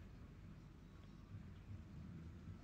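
Sudden rain hisses steadily with a deep, rolling thunder rumble underneath, low and muffled at a distance and continuous throughout.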